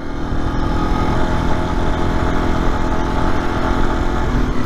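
Steady motorcycle engine running at a constant drone, close and loud throughout, recorded from a helmet-mounted camera while riding, with no talk over it.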